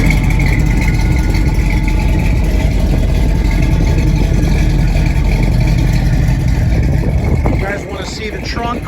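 A 1967 Chevrolet Camaro engine idling close by, a loud, steady low rumble that runs unbroken before dropping off near the end.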